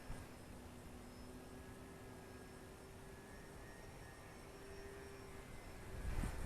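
An electric RC Fun Cub bush plane (1100mm wingspan) with a Master Airscrew 9x5 prop hums as a faint, steady, distant motor whine in flight, holding constant throughout with no voices.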